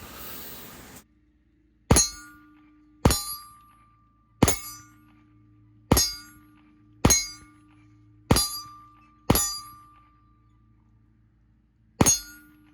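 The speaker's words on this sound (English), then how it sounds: "hard to see the exact shot impacts on these steel IDPA targets" Pistol rounds striking steel IDPA targets at 25 yards ring out as eight sharp metallic clangs, spaced roughly a second apart with a longer gap before the last, each with a short ringing decay, loud and clear with no talking.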